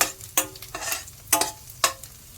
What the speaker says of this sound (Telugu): కొద్దిగా ఆయిల్లో రోస్ట్ చేసుకుంటే సరిపోతుందా? ఆయిల్ అది గీ.